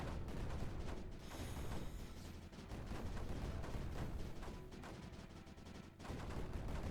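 Mortars fire in the strategy video game Creeper World 4, a dense continuous barrage of muffled booms and thuds that stays loud throughout with no speech.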